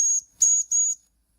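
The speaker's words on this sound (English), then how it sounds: "blow the whistle" A Mamod Brunel toy steam locomotive sounds its small steam whistle in three short, shrill, breathy toots in quick succession, close and clear, then falls silent.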